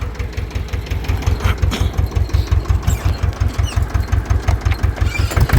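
An Ursus tractor engine idles while it warms up, with a loud, steady diesel chug that pulses in a fast, regular rhythm close by. The throbbing sits over outdoor background noise and no one talks.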